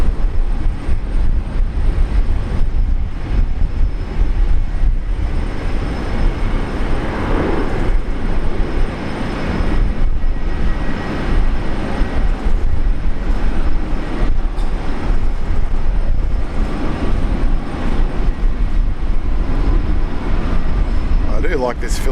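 A Philippines 777 airliner lands at Brisbane airport in heavy rain, with a loud, unbroken low roar of engines and downpour filling the whole stretch while a voice talks over it.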